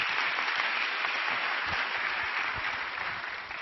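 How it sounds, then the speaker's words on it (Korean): A church congregation at Onnuri Church applauds to welcome a pastor, a dense, steady wash of clapping that fills the whole hall, heard alone. "뜨거운 사랑의 박수로 한번 축복해 주시기 바랍니다."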